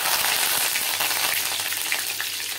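Curry leaves hitting hot oil with mustard seeds for a fish curry, giving a bright, steady crackling sizzle that runs without a break and carries no talk.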